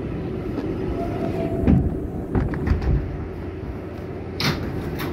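R142A New York subway train, a Bronx-bound 6 local, rumbling steadily between stations with rattling carriage noise, clanks and a brief squeal near the end.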